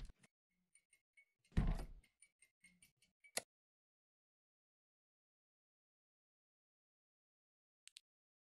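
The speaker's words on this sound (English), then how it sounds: "I opened the door, and then I went outside and touched some grass." A door in an indie video game opens with a short creak and a thud, followed by a few light ticking clicks and a faint final tap after a long silence.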